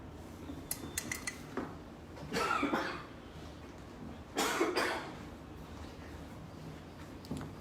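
Two short bursts of coughing, fairly close, separated by a pause, with light clinking and rustling in a quiet room between them.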